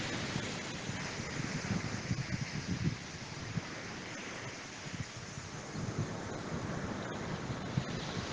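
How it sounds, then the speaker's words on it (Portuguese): Ocean waves wash steadily on a shore, a soft continuous surf roar with gentle swells and some wind across the microphone, no voices. "Com esse barulho das ondas"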